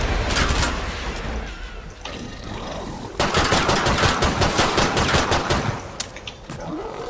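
Rapid automatic gunfire from the Killing Floor 2 video game: a short burst, a pause, then a long dense volley of sharp repeated shots, loud and close.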